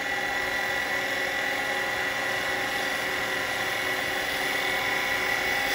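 A wood lathe roughs out a yew bowl, giving a steady, loud, continuous whirring drone with a dense cutting hiss that holds unchanged throughout, with no voices.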